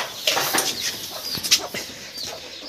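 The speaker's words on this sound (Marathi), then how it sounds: "हे बघा इथं कोंबडी बसलेली आहे, तिचे पिल्लं" A hen clucks softly among her chicks in a free-range desi poultry shed, with short scattered calls and faint peeping over a steady background hiss.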